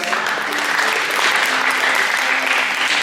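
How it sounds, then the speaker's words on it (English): Loud, sustained applause from an audience at a high school post-prom show, a thick continuous roar of clapping with faint voices and crowd noise mixed in. "Give them another round of applause, everybody."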